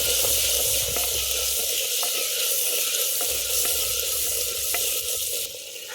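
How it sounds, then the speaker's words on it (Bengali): Spices being sautéed in oil in a clay pot for a chicken dish, sizzling steadily and close up with occasional stirring scrapes, no talking. "সব মশলা ভালো করে কষিয়ে নিয়েছি, দেখুন মশলা দিয়ে তেল ছেড়ে দিয়েছে"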